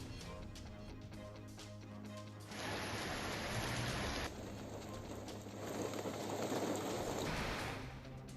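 Summer rain in Tamil Nadu falls steadily and pours onto surfaces, a dense, continuous hiss that swells louder partway through, heard alone without voices.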